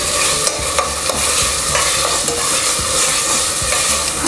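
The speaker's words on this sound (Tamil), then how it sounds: "இஞ்சி பூண்டோட பச்சை வாசனை போகிற வரைக்கும் இது நல்லா வதக்கிக்கோங்க." Ginger garlic paste and tomatoes frying in a pan for mutton kuruma, giving a close, steady sizzle broken by repeated spatula scrapes and clicks against the pan, with no voices.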